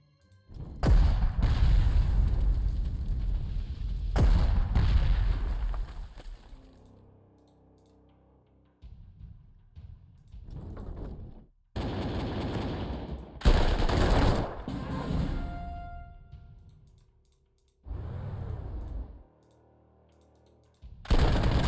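Flak artillery fire in the Panzer Corps 2 strategy game, several loud bursts of rapid booming shots separated by quieter gaps, with short clicks between them.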